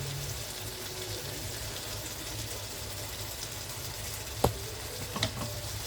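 Food sizzles and fries steadily in a pan before tomatoes go in, a continuous soft crackle with a low hum underneath and a couple of brief clinks near the end.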